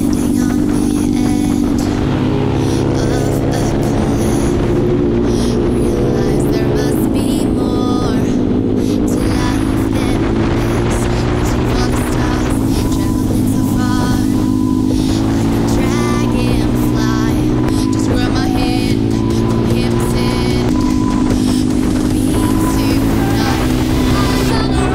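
A pit bike engine drones steadily and loudly throughout a ride on a trip to a canyon, nursing a flat tyre, its low harmonic hum rising and falling slightly with throttle.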